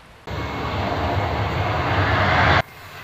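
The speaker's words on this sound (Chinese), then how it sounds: "飞机缓缓降落" A charter airliner on its landing approach at Hualien, a loud broadband jet roar that holds steady for about two seconds and then cuts off sharply.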